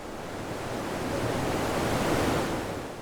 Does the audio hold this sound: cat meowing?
no